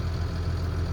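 A vehicle engine idles steadily with a low, throbbing exhaust rumble and faint vibration from a loose exhaust touching metal, heard up close and alone for about a second.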